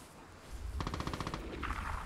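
Shotgun fire in the video game Vigor: a rapid burst of about eight sharp, loud blasts in quick succession, followed by a brief quieter rustle.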